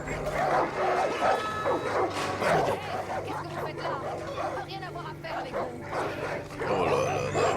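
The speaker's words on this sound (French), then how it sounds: "Chien de l'autre côté." Dog barking in the video game Far Cry 5, repeated barks and yips mixed with game noise while a player talks over it.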